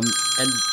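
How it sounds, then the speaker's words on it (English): Mobile phone ringing indoors during a classroom lecture, a short loud electronic tone with steady high pitched ring, a brief spoken word over it. "Sorry about my phone right there."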